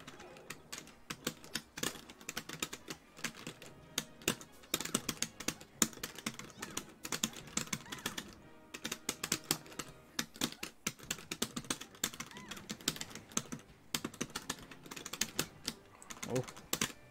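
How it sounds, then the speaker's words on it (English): Computer keyboard keys clatter in rapid, irregular bursts during a Super Smash Bros. Melee tournament match, fairly quiet and continuous with short pauses, with little or no talk. "He's playing on keyboard, that's why."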